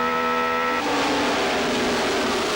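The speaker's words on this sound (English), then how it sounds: "We're inside Sharp's car here" An Indy car engine heard from an onboard camera during the 1998 Walt Disney Indy 200 holds a loud, continuous high-pitched drone, its tone shifting as the car changes gear, with no voices.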